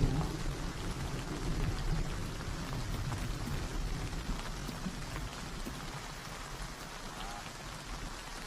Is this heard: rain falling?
yes